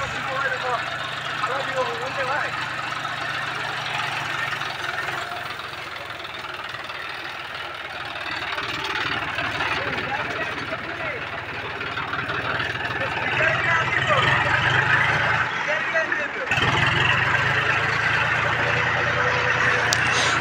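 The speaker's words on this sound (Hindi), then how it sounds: "गाइज मैं भी ट्रैक्टर के ऊपर आ चुका हूँ, अब जा रहा हूँ घर की तरफ ट्रैक्टर से।" An old John Deere 5104 2WD tractor engine runs steadily in a low, rumbling drone that swells louder in the second half, with a brief dip near the end.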